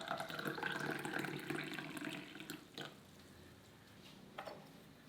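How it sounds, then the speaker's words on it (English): Hot water pours into a cup holding turmeric powder and pepper, a broad splashing rush that is strongest at the start and then tapers to a quieter trickle with a couple of brief sloshes, close by and with no talking. "Now add in hot water and mix well."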